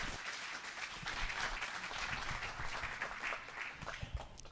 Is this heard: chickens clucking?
no